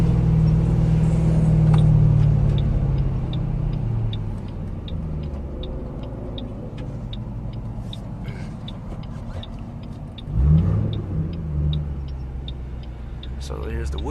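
A Mustang driving along a road on the way to a Mustang owners' event, with a steady low engine rumble, a brief swell of revving partway through, and a person talking over it.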